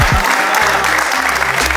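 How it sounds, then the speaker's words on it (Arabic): Applause for a player at an esports gaming event, a steady wash of clapping that fills the short stretch, with low hum and some voices underneath. "درت لي عليك تصفيقة الفاروق للفريق هاكيم."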